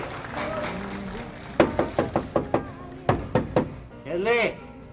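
Loud banging on a door in a Filipino TV sitcom: two quick bursts of sharp knocks, about five and then three, with a voice shouting before and after.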